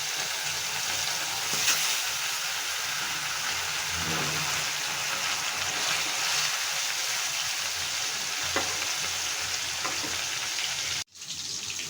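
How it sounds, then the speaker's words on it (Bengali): Tilapia pieces fry in hot oil for a fish curry, a steady, loud, crackling sizzle running throughout with a few sharper pops and a brief dropout near the end; no talk. "এখন আমরা এক এক করে মাছগুলো তেলে দিয়ে দিব।"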